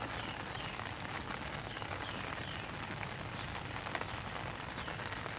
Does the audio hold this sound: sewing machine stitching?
no